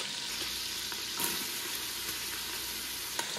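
Pancetta and minced red onion fry in a pan for penne alla vodka, a steady close sizzle with faint scraping as the mixture is stirred, no voices.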